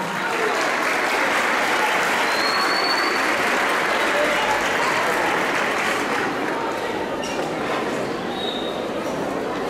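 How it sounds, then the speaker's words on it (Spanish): Loud, sustained audience applause at a Chilenazo 2018 festival show, a dense, steady wash of many hands clapping that fills nearly ten seconds with little change in strength. "aplauso, por favor."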